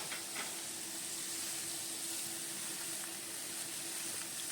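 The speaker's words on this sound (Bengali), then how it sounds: "তরমুজের খোসাটা বেশ কিছুক্ষণ ধরে নাড়িয়ে নাড়িয়ে ভাজতে হবে" Watermelon rind frying in a pan for a vegetarian curry, giving a steady, even sizzling hiss that continues throughout at moderate level, with no voices.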